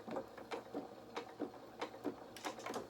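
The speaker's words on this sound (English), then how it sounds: "So we're going to take a couple of stitches forward, reverse" A home sewing machine runs a few stitches forward and then in reverse along a seam at 1 cm seam allowance, its needle clattering in short rhythmic bursts close by.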